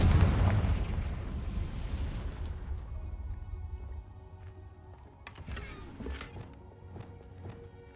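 Confringo fire spell blast in the video game Hogwarts Legacy, a loud booming burst that rumbles and slowly fades, followed by quieter crackles and a few sharp magical chimes.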